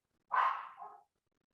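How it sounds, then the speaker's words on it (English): A single short dog bark, fairly clear and close, with silence before and after. "Can you hear Lex barking?"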